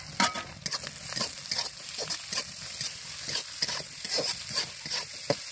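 Carrots, green chilli and raw peanuts frying in a pan, a close, steady sizzle broken by repeated scraping stirs and clinks of the spatula.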